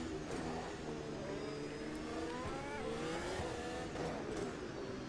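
A Formula 1 race car from a video game at Adelaide screams through rising and falling gear changes, its high-pitched engine revving up and shifting repeatedly, close and steady throughout.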